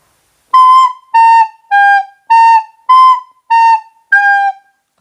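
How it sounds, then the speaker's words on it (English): Recorder played by a beginner who breathes after every note: seven separate clear, piping tones of about half a second, each followed by a short silent gap, loud and close. "take a breath after new note"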